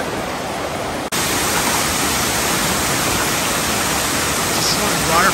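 Rushing water of a waterfall on the Naturaland Trail at Caesars Head State Park, heard from close overhead as a loud, continuous hiss that fills the whole clip after a brief dip near the start.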